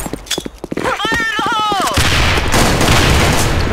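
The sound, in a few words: gunfire in a shooting video game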